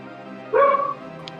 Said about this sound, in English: The badger barks in the background.